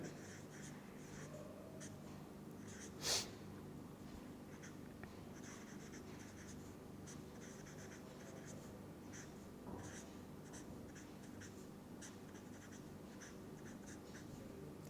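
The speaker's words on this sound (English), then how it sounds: "Let me write in this fashion." Handwriting on a board or paper during a chemistry lecture, faint intermittent scratchy strokes against quiet room noise, with one brief sharper tap.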